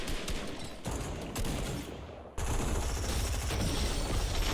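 Dense, sustained gunfire from a battle royale video game, rapid shots rattling almost continuously and growing louder and closer after a brief lull midway, with no talking over it.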